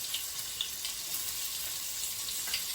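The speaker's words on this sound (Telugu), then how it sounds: "నూనె వేడవుతుంది కదా ఫ్రెండ్స్, కొన్ని ఉల్లిపాయలు వేసుకుందాం." Chopped onions frying in hot oil in a pan, a steady soft hiss and sizzle with faint crackles, close and continuous, no voices.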